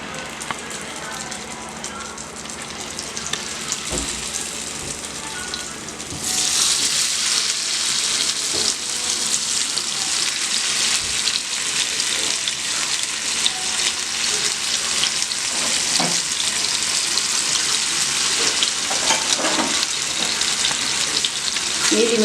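Fish pieces drop into homemade coconut oil and fry with a loud, dense crackling sizzle that swells sharply after a quieter start and keeps spitting steadily to the end.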